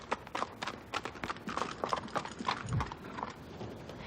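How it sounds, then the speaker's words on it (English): Hooves of an Arabian mare and a Przewalski's horse clip-clop in an uneven walking rhythm, close and fairly crisp, with a soft low thud partway through and no talking. "Bree's an Arabian mare, and her companion Alex is one of the last of his kind"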